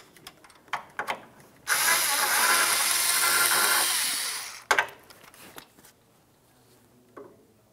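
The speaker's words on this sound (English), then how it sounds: "remove the two bolts that hold the AC condenser to the radiator" A power tool whirs steadily for about three seconds while removing the bolts that hold the AC condenser to the radiator on a 2009-2019 Ford Flex, framed by brief metallic clicks and ratchet taps.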